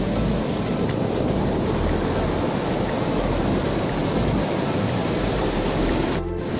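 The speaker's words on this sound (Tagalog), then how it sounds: "Napakalakas ng alon." Loud, continuous roar of strong surf breaking on a beach in Magsaysay, dense wash of water filling the whole clip with no voices.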